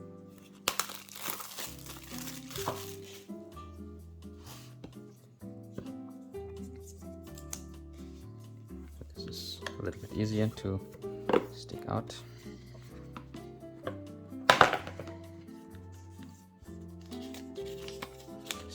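Paper packaging of an Apple Pencil crinkles and rustles in close, irregular bursts during an unboxing, with someone talking over parts of it.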